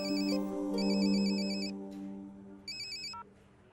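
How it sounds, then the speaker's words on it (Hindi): Phone ringtone for an incoming call: a bright, electronic, multi-tone ring sounding in two separate bursts, with a low musical background underneath and no talking. "मुझे एक फोन आ रहा है"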